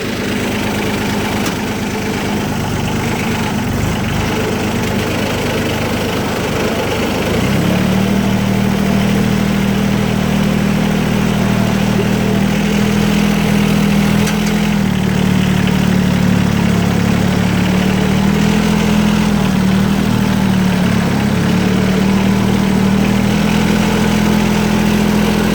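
A Cub Lo-Boy 154 tractor repowered with a diesel engine idles, then steps up to a steadier, louder drone as it pulls forward, its low chugging hum continuous and close throughout, with no voices.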